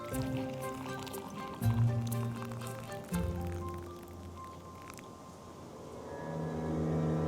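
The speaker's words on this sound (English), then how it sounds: "Okay, then we gently pour the coffee on top." Cold coffee poured gently over oat milk and ice in a cup, a liquid trickle and splash with clinking ice near the mic, running steadily for several seconds with a brief voice in the background.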